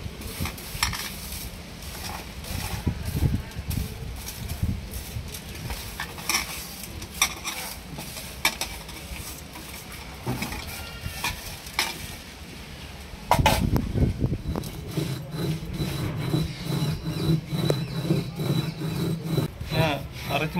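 Roasted idli powder ingredients with urad dal are ground by hand on a village ammi stone grinder, a continuous rough rubbing and scraping in uneven strokes that grows louder and coarser partway through.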